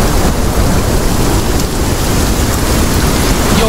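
A thunderstorm in the video game Sons of the Forest brings heavy, steady rain drumming on surfaces. A low rumble of thunder runs underneath, loud and continuous, with no voices.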